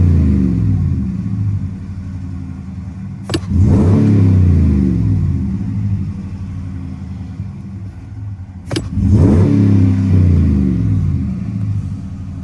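A Ram 1500 pickup with its throttle in stock mode revs its engine twice, each burst surging loud and close before easing back to a steady rumble.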